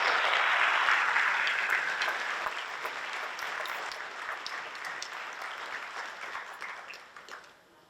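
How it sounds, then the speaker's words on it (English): An audience at a high school academic awards ceremony gives a round of applause for guests, loud at first and gradually thinning and fading away. "How about another round of applause for our guests?"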